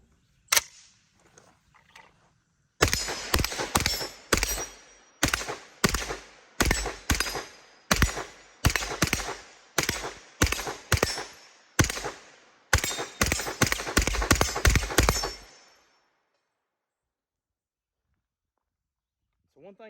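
Gunfire from an MP5 fitted with a Promethean LP1 sight, a few separate shots then a long run of sharp, evenly paced single shots and quick pairs, loud and close, ending in a short rapid burst.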